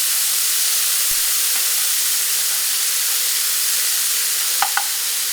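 Black beans sizzle in a hot skillet with a steady, bright hiss that holds for the whole stretch. A couple of soft clicks from a utensil stand out near the end, and no one speaks.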